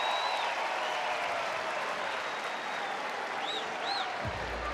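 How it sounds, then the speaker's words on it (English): Crowd at a college baseball game between Miami and Florida State applauding and cheering after a hit, a dense continuous wash of clapping and crowd noise with a few whistles rising above it. "and the crowd loves it"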